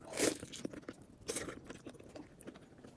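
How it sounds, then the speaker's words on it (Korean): Close, crunchy chewing of a potato mozzarella hot dog with a few louder bites, then softer, wetter mastication continuing steadily. "제가 음식 씹는 게 엄청 느리거든요."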